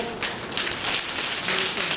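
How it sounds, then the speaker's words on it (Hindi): A hall audience claps together with one finger each, producing a dense, even patter of light taps like rain, close and continuous. "सब ने करना, एक उंगली से ताली बजाना है।"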